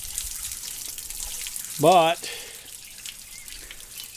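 Water draining from an RV holding tank through unhooked valves, a steady close trickle and splatter into a large puddle that runs under the whole clip, while someone briefly speaks over it.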